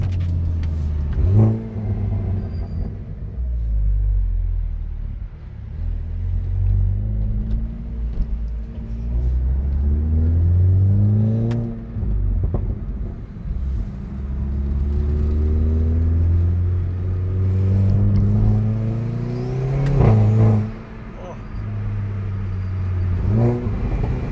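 Loud exhaust from a Stage 2+ Hyundai i30N, tuned to 333 hp and 480 Nm, revs hard through repeated accelerations. Each rising sweep breaks off at a gear change, and the rumble stays steady and close throughout.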